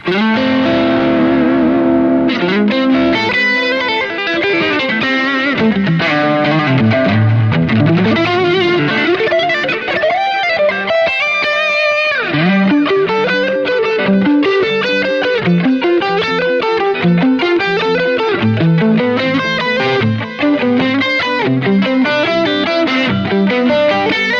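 Distorted electric guitar through a Marshall Studio Vintage SV20 amp tone plays a continuous melodic line, loud and close, with echoing stereo delay repeats spreading the notes.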